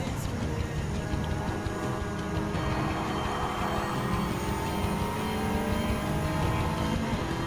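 Race car engine in the video game Gran Turismo 7, a continuous droning roar with gradually climbing pitch as the car accelerates, moderately loud and steady throughout.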